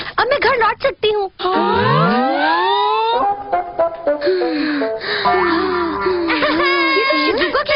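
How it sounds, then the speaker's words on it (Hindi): Cartoon girl crying in an animated episode, wavering wails and sobbing whimpers in broken bursts with gasping breaths, close and fairly loud. "ये तो शिज़ुका की रोने की आवाज है।"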